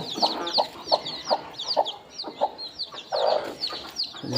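Village chickens clucking repeatedly in short bursts, several birds close by, with a louder squawk near the end.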